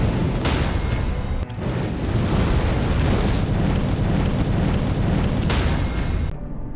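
A deep, distorted rumbling blast from Messmer the Impaler's uppercut attack in Elden Ring roars continuously for several seconds, loud and crackling, with a short dip in the middle before it ends.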